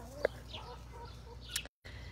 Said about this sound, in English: Show you my chickens.